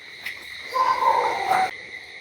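Insects chirping in a forest at night near a crab-hunting spot, a steady high trilling drone with a brief louder rising chirp standing out in the middle.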